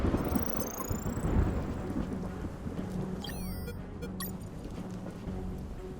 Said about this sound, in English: Oh, and there was a storm.